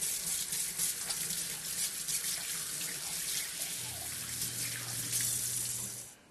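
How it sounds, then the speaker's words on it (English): Tap water runs steadily into a sink during handwashing, a continuous close splashing rush with slight shifts in flow, stopping abruptly at the very end; no talking. "First thing first, you got to go wash your hands."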